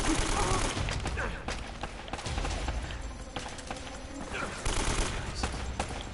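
Rapid gunfire bursts from the video game Uncharted: Drake's Fortune, dense rattling shots continuing throughout at steady loudness, with a voice talking over the action.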